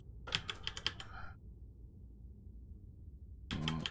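Typing on a silent mechanical keyboard: a quick burst of soft key presses, a pause of quiet room noise, then another short flurry of keystrokes near the end, close and fairly quiet.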